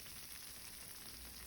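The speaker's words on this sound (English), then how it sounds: "You can hear it sizzling." Gluten-free chicken casserole topped with crusty cheese sizzling steadily in its dish, a soft continuous crackle with no talk over it.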